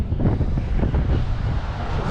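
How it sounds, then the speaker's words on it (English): Strong wind gusts buffet the microphone outdoors on a high viewpoint at the Kansas State Capitol in Topeka, a steady loud rumbling roar with no talk. "Oh, it's windy."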